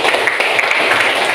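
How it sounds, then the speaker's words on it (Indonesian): Classroom applause during a school lesson, a steady wash of many hands clapping together, loud and close, with no talk over it. "beri tepuk tangan dulu kepada"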